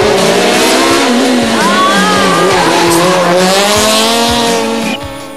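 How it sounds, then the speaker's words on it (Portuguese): Citroën Saxo S1600 rally car racing on a rally stage, its engine revving loud and close with rising and falling pitch as it accelerates, with brief tyre squeal, fading slightly at the end. "imagens espetaculares de Carlos Costa e do Citroën Saxo S1600, que o piloto micaelense já domina de forma perfeita"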